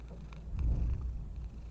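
A pet cat named Church purrs in a horror video game, a low steady rumble that swells briefly in the middle and then settles, close and soft with no talking.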